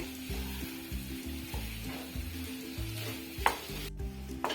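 Sweet potatoes roast in ghee in a pan with a steady close sizzle and occasional stirring scrapes, while a low tonal hum runs underneath throughout.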